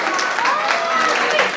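An audience at a Jain Siddhachakra Mahamandal Vidhan ceremony in Chennai claps for a performer playing Indra, a sustained, even roar of applause with faint tonal sounds threaded through it.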